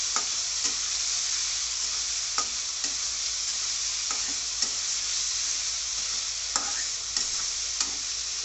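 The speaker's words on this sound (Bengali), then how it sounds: "মাছের মাথাটা মশলার সাথে কষাবো" A fish head sautéed with spices in a pan sizzles steadily up close, with a spatula scraping and knocking at irregular intervals over the constant frying hiss.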